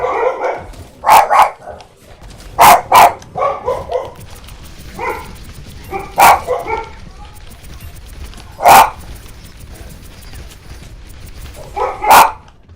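Dogs bark in a video game, with loud sharp repeated barks at irregular intervals and some softer yips and whines between them. Talk is faintly mixed in.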